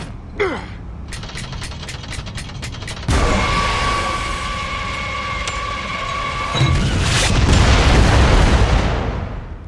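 In Gears of War, the mortar heavy weapon gives a quick series of mechanical clicks, then a loud deep boom followed by a sustained whistling whine and a rumbling explosion, with no talking.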